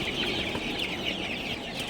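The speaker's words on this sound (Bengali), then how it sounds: "আপনারা দেখতে পাচ্ছেন আমার সোনালি সুপার হাইব্রিড মুরগিগুলো মাসাল্লাহ খুবই ভালো আছে এবং সুস্থ আছে" Sonali super hybrid chickens cluck and chatter continuously in a coop at night, many birds overlapping at close range.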